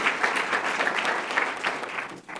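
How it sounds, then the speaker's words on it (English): An audience at a political campaign event for a Cook County State's Attorney candidate gives a steady, full round of applause. The sound is dense and continuous and fades near the end. "Give him a round of applause."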